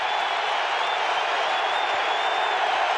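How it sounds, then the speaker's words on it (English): A big football stadium crowd at a Falcons vs Cowboys game roars in a steady, dense wash of cheering and noise that fills the whole stretch. "This crowd's into it."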